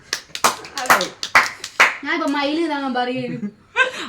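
Several sharp hand claps in an uneven burst at close range during a family game at home, followed by a person speaking and laughing, with one more clap at the end.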